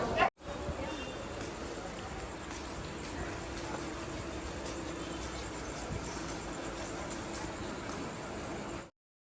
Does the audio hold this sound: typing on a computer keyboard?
no